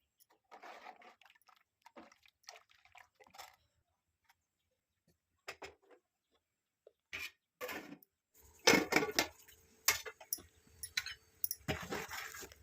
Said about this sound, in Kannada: ಗ್ಯಾಸ್ ಮೇಲೆ ಈ ಪಾತ್ರೆನ ಇಡ್ತೀನಿ.